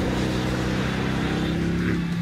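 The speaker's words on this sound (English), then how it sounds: "just listen to that ridiculous engine and exhaust note." A 2016 Mercedes-AMG GT S sports car's engine and exhaust drone steadily at sustained speed, a loud, close, low-pitched rumble with no talk over it.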